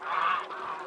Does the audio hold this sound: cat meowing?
no